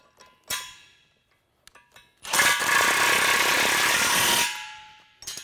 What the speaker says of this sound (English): we'll take a 15/16 inch wrench and impact and tighten them all down